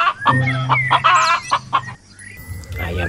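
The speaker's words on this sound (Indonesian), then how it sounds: "Ayam jago." A rooster clucks in a quick run of close, loud calls, then breaks into a short crow, with no talk over it.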